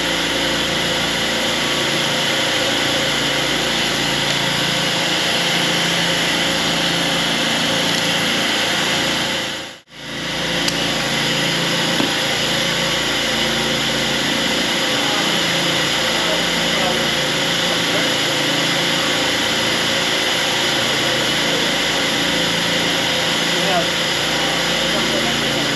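CNC machine cutting wooden door pulls in a workshop, a loud continuous high-pitched whine and hiss with one brief drop in sound partway through.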